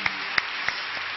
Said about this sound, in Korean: 우리에게 승리를 주시는 하나님께 영광의 박수 올려드리겠습니다